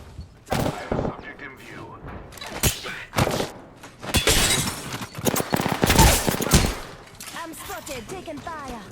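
Gunfire in the battle royale game Apex Legends: loud bursts and single shots crack repeatedly, one rapid volley after another, with a voice talking over the fighting.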